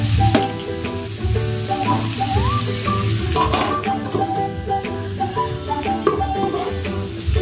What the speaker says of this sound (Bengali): ঢাকা দিয়ে দিয়ে ভাজতে হবে।